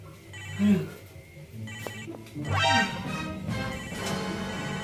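A mobile phone ringtone plays as a repeating electronic melody, moderately loud with some background bumps and clatter mixed in.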